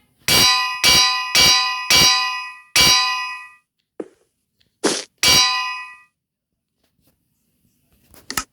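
Heavy anvils in Minecraft drop and land one after another, giving about seven sharp, ringing metallic clangs in an uneven rhythm, with short silences between the last few.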